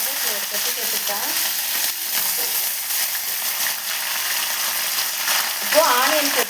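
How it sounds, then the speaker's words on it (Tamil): Curry leaves and green chillies frying in oil in a pan make a steady, dense sizzle throughout, with a brief sharper crackle near the end as the leaves hit the hot oil; no talking. "பச்சை மிளகா நல்லா வறுந்துருச்சு. இப்போது நான் கருவேப்பிலை சேர்த்துக்கிறேங்க."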